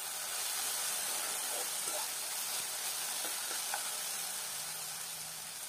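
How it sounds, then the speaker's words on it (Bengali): Potatoes cooking in a pan with garlic paste and green chillies, a soft continuous sizzle and hiss with faint scraping from stirring, quiet and steady. "রসুন বাটা আর কাঁচা লঙ্কা দিয়ে আবারও ভালো করে আলুর সাথে মিক্স করে নেড়ে চেড়ে নিতে হবে।"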